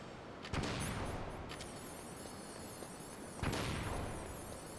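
Grenade explosions in Metal Gear Solid, the original game: two loud booming blasts about three seconds apart, each with a sharp onset and a long rumbling decay over steady background noise, with no talking.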